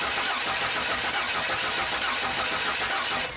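A 2002 Chevy Silverado with no ignition spark cranks without starting: a steady, rhythmic starter-motor churn that stays loud and close throughout and never catches.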